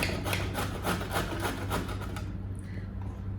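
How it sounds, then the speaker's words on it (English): Raw cauliflower is rubbed against a hand grater for a pizza crust, a quick series of rhythmic scraping strokes close by that stop partway through, leaving near quiet. "Grating is quite quick and easy."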